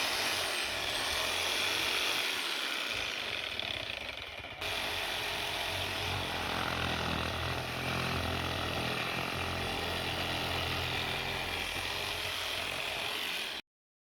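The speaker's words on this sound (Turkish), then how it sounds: "Şimdi gördüğünüz bu testere sayesinde kesip parçalayıp ve içerisindeki iliklerden faydalanacağız." A powered bone-cutting saw cuts through bones, running in a loud, steady mechanical drone for about fourteen seconds, its pitch shifting slightly partway through before it cuts off.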